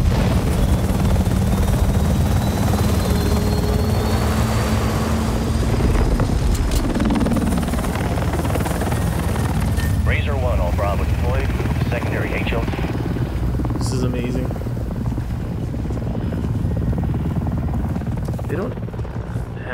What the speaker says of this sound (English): that massive chopper on their radar